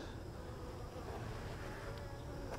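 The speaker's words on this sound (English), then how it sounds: "So all these are nurse bees." A steady close drone of nurse honey bees crowding a hive frame with uncapped larvae, low and even throughout with no talk.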